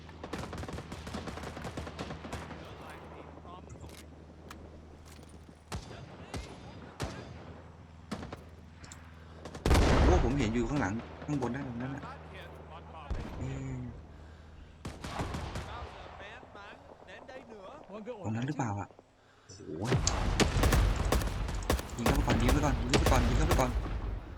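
Rifle and machine-gun fire from Rising Storm 2: Vietnam crackles in bursts, with heavy close volleys around two heavy stretches and scattered distant shots between, while someone talks over the combat.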